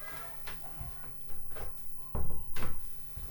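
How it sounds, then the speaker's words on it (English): A door is closed indoors with several soft wooden knocks and thumps, close and moderately loud, spread over a few seconds. "Close the door."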